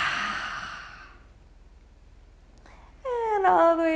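During a yoga breathing session, a heavy, breathy exhale sounds close and soft for about a second. A quiet pause follows, then a voice speaks.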